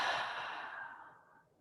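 A long, deep exhale during guided meditation breathing, a soft breathy rush that starts fairly strong and fades gradually to quiet, heard up close with no talking.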